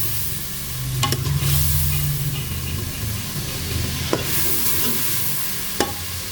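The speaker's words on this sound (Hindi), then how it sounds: "आपके इसके अंदर चम्मच चला लेना" Meat with spices is stirred with a spoon in a pot, making a loud sizzle and scraping. Three distinct metallic taps of the spoon against the pot rim ring out over the frying.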